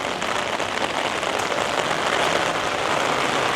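Heavy rain from a storm in Tokyo drums hard on nearby surfaces, a loud, even roar of drops with no voices.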